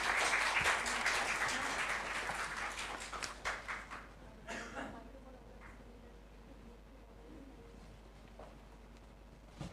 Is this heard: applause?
yes